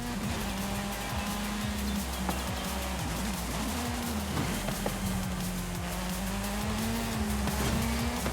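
Race car engine in the video game Forza Horizon 5, a loud continuous drone that rises and falls in pitch with gear changes and throttle, accompanied by tire noise and steady road rumble, with no voices heard.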